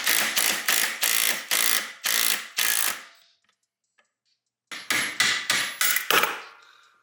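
A homemade bushing puller on a Yamaha Zuma 70cc scooter gives loud, rhythmic ratcheting bursts, a short series of sharp clicks, a pause of near silence, then another run of clicks.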